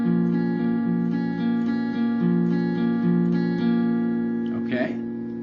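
Guitar picking an arpeggiated intro pattern, a quick, even stream of plucked notes ringing close, with a brief voice near the end.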